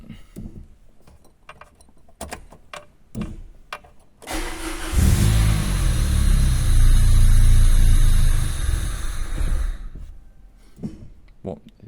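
A newly finished engine block gets its first start after some clicking and handling noises. It catches suddenly and runs loud and close for about five seconds, then dies back to quiet tinkering.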